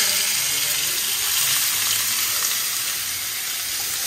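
Cumin seeds and bottle gourd sizzle in hot oil in a frying pan, giving a steady, fairly loud hiss and crackle that continues evenly throughout without a break.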